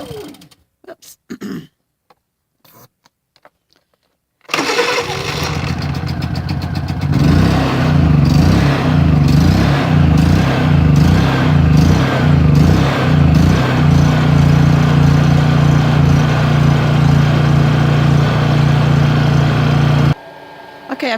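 A small gas engine with choke, run while clearing snow off solar panels, sputters after a few pulls and then catches, settling into a loud, steady chugging idle close by for over fifteen seconds before cutting off.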